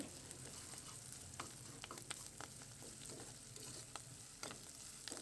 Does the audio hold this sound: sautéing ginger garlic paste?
yes